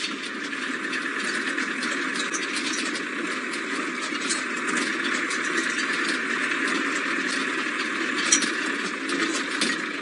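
A safari vehicle's engine idles steadily throughout on a morning game drive viewing black rhinos, a continuous mid-pitched hum with broadband noise and no breaks, fairly close and unchanging in level.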